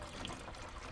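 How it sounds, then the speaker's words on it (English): Worm farm liquid pours from a square-sided container in a short, steady splash and trickle of water, close and continuous. "about the square-sided containers being easier to pour."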